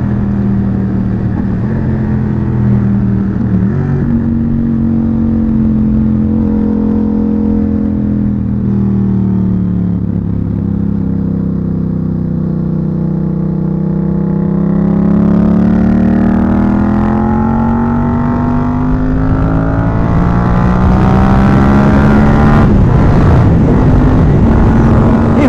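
A Yamaha MT-07 two-cylinder motorcycle cruises on a highway, its engine droning loud and steady with a rising then falling pitch as it climbs through the revs, alongside continuous wind rush.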